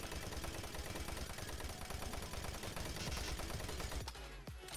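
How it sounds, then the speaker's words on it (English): Doom 3 machine gun fired in Garry's Mod, a rapid continuous burst of loud synthetic gunshots lasting about four seconds before stopping abruptly with a brief mechanical tail. "The noise of the machine gun is actually pretty standard, pretty normal Doom 3 noises."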